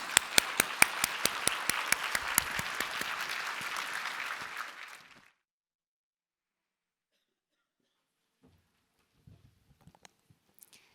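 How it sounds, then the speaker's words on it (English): Audience applause after a symposium talk on wellbeing, dense steady clapping that fades out after about five seconds, then near silence with a few faint rustles. "I want to give you a round of applause for trying to train your mind with me today"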